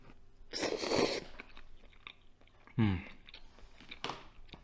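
Noodles in broth being eaten: close crunchy chewing and biting sounds in two or three bursts with a wet slurp-like sweep between them, fairly loud against a quiet background.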